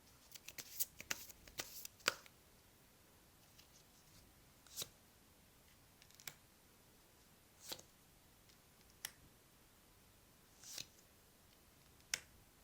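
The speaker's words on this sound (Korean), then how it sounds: "마지막으로 여러분을 위한 조언 카드 뽑아볼게요." Tarot cards shuffled and drawn at a table: a flurry of soft riffling at the start, then sparse, quiet single flicks and snaps spaced a second or two apart, close and intimate with no voice.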